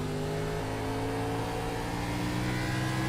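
Race car running laps at Richmond, engine droning steadily with a sustained whine and tire hum throughout, loud and continuous with no talk.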